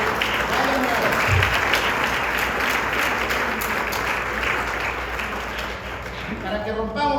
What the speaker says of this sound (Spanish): Démosle un aplauso a nuestro Señor